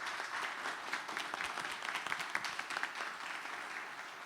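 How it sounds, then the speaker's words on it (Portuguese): Audience at a lecture on penal execution applauding a speaker, several seconds of steady, dense clapping from a crowd in a hall, moderately distant and without talk. "uma salva de palmas para o nosso doutor Alexis"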